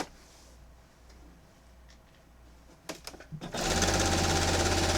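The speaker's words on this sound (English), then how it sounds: "And I started sewing about a 1/2 inch from the end of the quilt" A sewing machine stitching binding onto a quilt starts up after a few handling clicks, then runs in a loud, steady, rapid mechanical whir close by.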